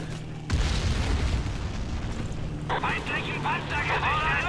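Players shoot upward in Battlefield 1942 with a sudden loud boom and a burst of sustained gunfire, while voices shout and talk excitedly over the battle.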